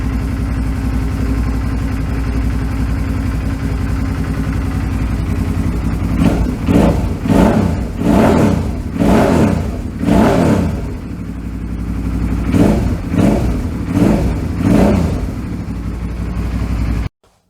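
A Suzuki V-Strom DL650 motorcycle engine running just after a fuel filter replacement, a loud close idle broken by a series of rhythmic throttle blips and revs before cutting off abruptly, with no talk.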